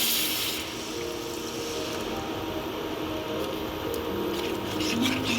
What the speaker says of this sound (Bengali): মশলাটা কষা হয়ে গেছে, আমি জলটা দিয়ে দিচ্ছি।